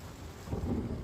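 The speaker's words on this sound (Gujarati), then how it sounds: "ગાજવીજ સાથે કાલાવડના ગ્રામ્ય વિસ્તારોમાં વરસાદ પડ્યો।" Rain falls with a low rumble of thunder over rural Kalavad near Jamnagar, Gujarat, a short, faint, muffled roll beneath a steady wash of rainfall, with no voices.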